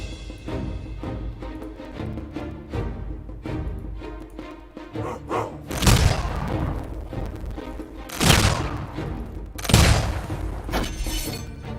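Units shooting in a Humankind battle: a busy bed of game battle sounds and music, broken by three loud booming volleys spaced a few seconds apart, with no talk.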